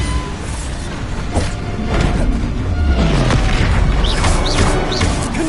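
Bombarda blasting spell cast in the Hogwarts Legacy video game, a heavy booming explosion with crashing debris and rumbling thuds that swell and linger over several seconds, with whooshing magical effects near the end.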